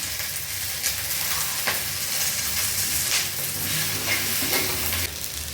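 Cumin seeds hit hot oil for a coriander chutney and sizzle steadily up close, with intermittent stirring scrapes in the pan over the continuous frying hiss.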